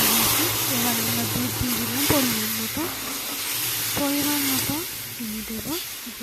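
Milk poured into a pan of fried semolina gives a steady, close hiss and sizzle, with intermittent scraping stirs on top.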